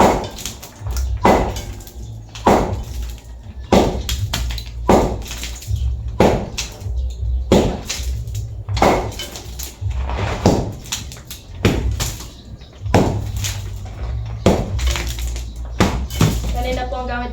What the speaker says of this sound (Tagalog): Ito pong martilyo at medyo madali po siyang tibagin. Tapos dito naman po sa poste, ito pong maso.